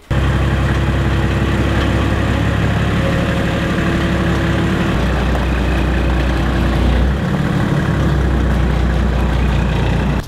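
The OM606 diesel engine of a Mercedes W108 runs steadily, with a loud, close clattering rumble that shifts slightly in pitch about halfway through, and no talk over it.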